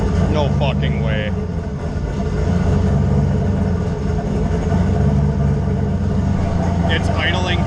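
A tuned race car engine idles steadily around 1,000 rpm after a throttle adjustment, a loud continuous low rumble with bright mechanical chatter and brief higher whines, close by and alone.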